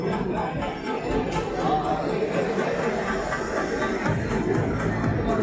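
A large, noisy crowd murmurs and chatters at a leadership summit at a university, a dense, steady wash of many voices filling the space at fairly loud volume throughout.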